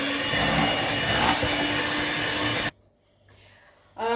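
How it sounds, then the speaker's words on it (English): An electric whisk whips double cream into a cheesecake mixture, a loud close whirring drone that cuts off abruptly, leaving near silence before the motor starts up again. "add the double cream to the mixture, and we're going to whisk that up till it's nice and thick"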